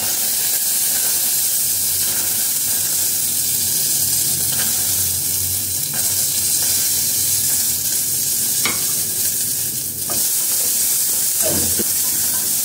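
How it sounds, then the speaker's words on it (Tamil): Turkey berries stirred and sautéing in a hot pan for a Tamil chutney, a steady close sizzle and hiss with occasional spoon scrapes running throughout, no talking. "நல்லா வதக்கிடலாம்."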